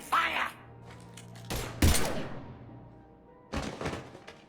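Gunfire in the sci-fi shooter Mass Effect 3 during a Citadel firefight, with a few loud, sharp bursts separated by quieter gaps and a faint background hum.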